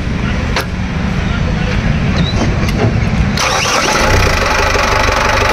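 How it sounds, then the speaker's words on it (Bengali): A used Tata Xenon pickup truck's engine cranks and catches, with a change near the three-and-a-half second mark, then settles into a loud, steady mid-pitched idle close by. Voices can be heard talking at the same time. "একটু স্টার্ট করে দর্শকদের সাউন্ডটা দেখিয়ে দিই।"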